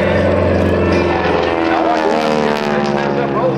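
An aerobatic airplane performs at the 2010 Greenwood Lake Airshow, its engine droning loudly and steadily throughout with a shifting, wavering pitch as it maneuvers, while a voice talks over it.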